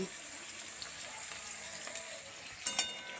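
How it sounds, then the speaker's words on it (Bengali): Sliced pointed gourd sizzles quietly in oil with a soft, continuous frying hiss, a few faint stirring clinks and a brief louder spatter near the end. "এবার পটলগুলোকে একটু ভালো করে ভেজে নেব"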